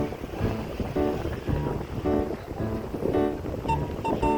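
Wind buffeting the microphone in steady gusts, with a low rumbling roar and some faint clatter near the end.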